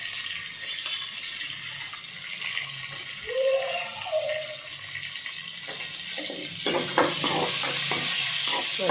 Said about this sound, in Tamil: நல்லா இப்போ வதங்கலாம்.